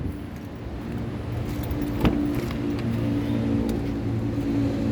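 A set of car keys with a broken remote fob jingles as it is handled beside a 2014 Daihatsu Sirion 1.3 D automatic, a short metallic clink standing out over a steady low rumble.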